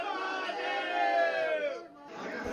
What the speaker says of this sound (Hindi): सुबह से शिवालयों में भक्तों की भारी भीड़ लगी हुई है।